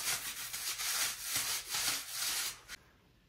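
Paint being rolled or brushed by hand onto a wall at home, a repeated rubbing, scraping stroke in steady rhythm for nearly three seconds, then stopping abruptly, close and moderately loud with no talk.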